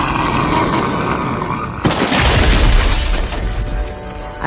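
A truck bursts into flames and explodes in an audio-drama effect: a sustained burning roar, then a sudden loud blast with a crashing burst and rumbling debris that continues to the end.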